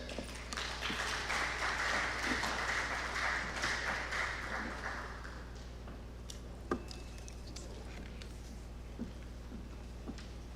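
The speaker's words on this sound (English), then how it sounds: "another round of applause for Madhuri Sakar Amoda" Audience applause at a technical summit, a soft scattered patter of clapping in a large hall that fades out after about five seconds, leaving a few faint taps and bumps.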